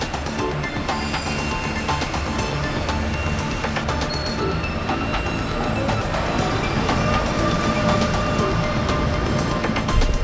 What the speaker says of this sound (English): which is actually a monorail.